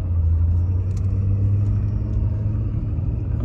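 A diesel pickup truck that had regular gasoline put in its tank, repaired and now being driven through town in winter, gives a steady, loud, low engine rumble heard from inside the cab with no talking.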